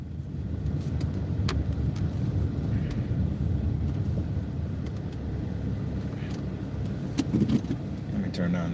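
A car engine hums steadily while the driver parks, with road rumble and a few small clicks and jangles inside the cabin, and a person talks over it.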